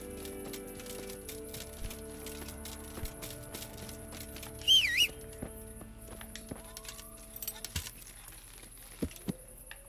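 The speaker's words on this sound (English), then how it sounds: "Gonna get on my horse." Quiet hoof clip-clops of a horse being mounted and ridden in Kingdom Come: Deliverance, with soft scattered steps, a brief whinny-like cry midway and faint game ambience behind.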